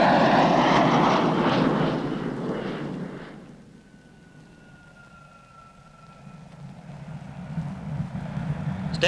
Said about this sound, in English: an R.A.F. Delta Wing Vulcan bomber circled over Wellington en route to OHAKEA whilst on a combined goodwill